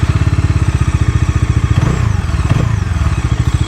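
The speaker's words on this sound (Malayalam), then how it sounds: "ഇതിൻ്റെ എക്സോസ്റ്റ് ഒട്ടും കൂടി ഞാൻ കേൾപ്പിച്ചത്" A Bajaj Dominar 400 motorcycle idles close by, its exhaust giving a steady, rapid thumping pulse with a slight dip in rhythm midway, alone with no voices.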